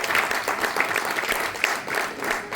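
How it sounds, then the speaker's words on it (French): A comedy festival crowd applauding a performer in France, continuous dense clapping at steady moderate volume throughout, with no voices over it. "On l'applaudit très fort pour elle, s'il vous plaît"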